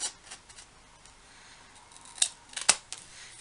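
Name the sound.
scissors cutting a mitered corner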